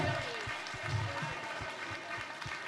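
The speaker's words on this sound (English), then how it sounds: "Give yourselves a hands applause." Audience applauding after a dance performance, a dense ongoing clatter of clapping from a crowd in a hall, with a low thumping rhythm underneath.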